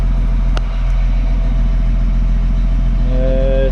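A John Deere forage harvester engine runs loud and steady close by, its constant low roar with a brief rise in pitch near the end and no one talking.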